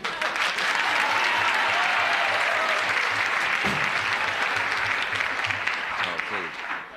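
A 1970 television talk-show studio audience applauds loudly and continuously for several seconds before the host's monologue, with a faint voice briefly audible underneath.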